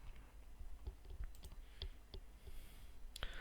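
Several quiet computer mouse clicks spaced irregularly over a low background hum while navigating a Facebook Ads Manager menu, with a sharper cluster of clicks near the end; no one speaks.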